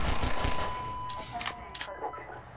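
Gunfire rattles in Half-Life 2 as bursts of shots crack close at the start, then scattered, fainter reports follow over a steady background hum.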